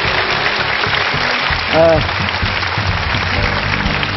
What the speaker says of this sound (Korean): 세 분에게 박수 주시고요.